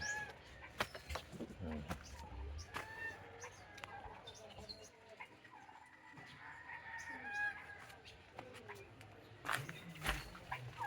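Chickens cluck and squawk in short bursts around the yard, with a rooster-like call among them, nearby and fairly quiet with faint background voices.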